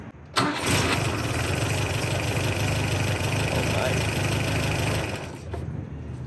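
A car engine cranks briefly and catches on a battery jump starter, then settles into a steady, loud idle that continues close by without talk.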